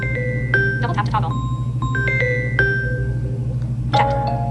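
A Samsung phone ringtone called Classy bell plays a sequence of bright, sustained chime tones over a steady low hum, with clusters of struck bell notes recurring several times and a final burst of chimes near the end.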